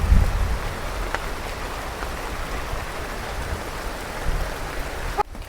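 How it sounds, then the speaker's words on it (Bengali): Rain falls steadily outdoors as a soft, even wash of patter and hiss, with a brief knock near the end and no talking. "দেখেন বৃষ্টি আয় পড়লো, মাশাআল্লাহ খুব সুন্দর"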